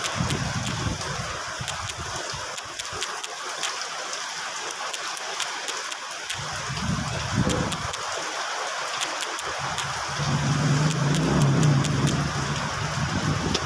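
Rain falls steadily in a continuous hiss of drops, moderately loud and close, with a low rumble swelling and fading in the background.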